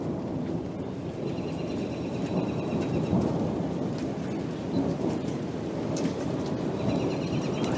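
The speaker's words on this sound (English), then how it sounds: "You hear the hail hitting the truck over there?" Small hailstones patter on a truck and a car during a thunderstorm, a dense steady rattle of rain and ice over a low rumbling roar.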